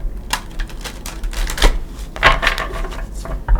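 Tarot cards shuffled by hand, a string of quick papery riffles and flicks in a few close bursts, with light rustling between them and no talk.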